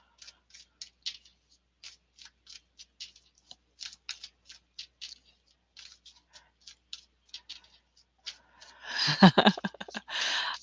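A deck of tarot cards being shuffled by hand in quick, crisp bursts of riffling and tapping over several seconds, ending in a louder, denser flurry of shuffling.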